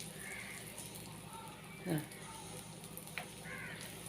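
Neyyappam frying in coconut oil that is ladled over it through a tube: a faint, steady sizzle under a person talking, with a brief louder splash partway through.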